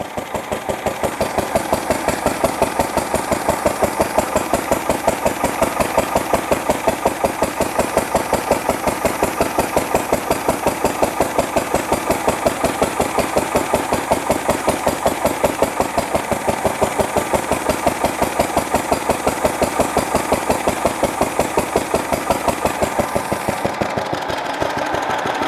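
Fowler PA1 engine warming up, running loud and close with an even, rapid thumping beat that holds steady throughout, nothing else heard.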